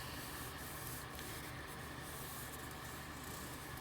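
Paper rubbed by hand across a gel press plate with a stencil and ink beneath, giving a steady, soft scuffing hiss that stays even and quiet throughout with no voices.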